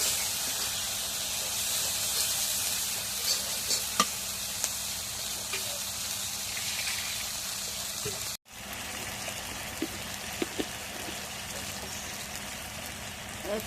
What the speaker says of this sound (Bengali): এখন জিরে রসুন বাটা সব কিছু একবার দিলাম। মশলাটা একটু কষানি করে নিই।